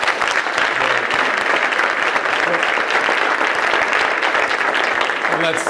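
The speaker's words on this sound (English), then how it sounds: "Let's please include Russ in that applause." A conference audience applauds the panelists of a policy panel, with loud, dense clapping sustained evenly from start to finish.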